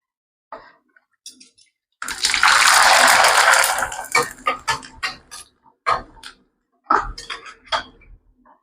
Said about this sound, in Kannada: ಈಗ ಹಪ್ಪಳ ಫ್ರೈ ಮಾಡುನು.